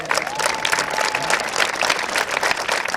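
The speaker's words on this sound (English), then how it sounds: "Give him a big round of applause." Spectators at Mid-Vale Speedway clap and cheer together in a dense, sustained round of applause, loud and continuous throughout.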